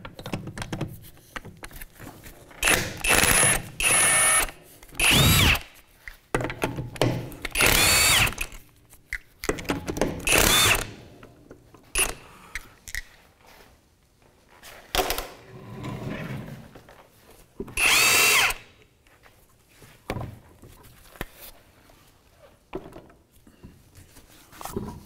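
An impact or power drill with a 17 mm socket spins off the lug nuts on a 2007–2013 Mitsubishi Outlander rear wheel during a brake job, loud whirring bursts of a few seconds each separated by clanks and handling noise, no talk.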